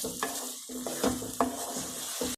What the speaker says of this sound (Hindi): पाँच मिनट भूनेंगे अच्छी तरह